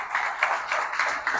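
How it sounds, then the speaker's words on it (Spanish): A church congregation claps together during a service, a dense, steady patter of many hands over about a second and a half. "Denle un aplauso al Señor."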